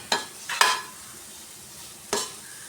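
Grated coconut and jaggery filling sautéed in a pan over a low flame, three distinct scraping stirs of the spoon over a quiet, faint sizzle; no voices.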